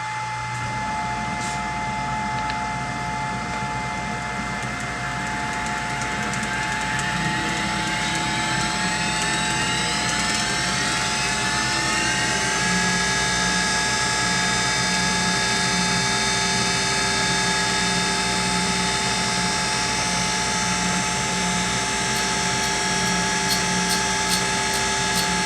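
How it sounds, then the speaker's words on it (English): A cutter grinder, using a fixture, grinds an angle into a parting blade. Its steady, loud whine and grinding hiss run continuously, with a tone that sweeps upward partway through. There is no talk. "I'm just using the fixture again and the cutter grinder"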